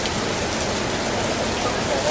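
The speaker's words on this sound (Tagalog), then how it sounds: "Grabe, biglang lumakas ang ulan." Heavy rain suddenly pouring down on an open-air market, a dense, steady hiss of drops pelting surfaces that stays loud and unbroken throughout, with no voices standing out above it.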